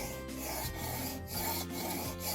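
Steel plane blade rubbed steadily across a sharpening stone in a woodworking workshop, a continuous dense rasping scrape with slight surges at each stroke, close and moderately loud, no talking.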